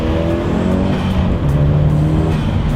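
Car engine on Yokohama Avid ENVigor tires held near 4000 RPM and launched, a loud steady drone with a rising pitch shift and no tire squeal, heard close.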